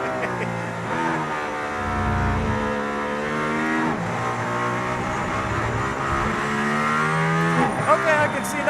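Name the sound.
Mercedes-AMG ONE hypercar driving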